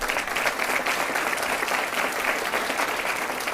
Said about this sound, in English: they're getting a nice round of applause anyway